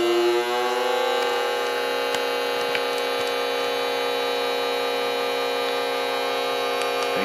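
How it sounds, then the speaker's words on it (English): An AP-18 vacuum sealer machine pulls the air out of a bag holding meat and liquid, giving a steady, even motor hum with a faint mechanical drone and occasional small ticks throughout. "Sucking the air right on out."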